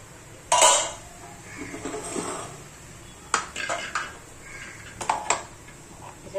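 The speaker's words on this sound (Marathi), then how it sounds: "आता मी हे झाकण काढते" Metal lid lifted off a cooking pot of khichdi, with a few close clanks and clinks of cookware spread out in bursts, plus a brief throat-clearing sound; no speech.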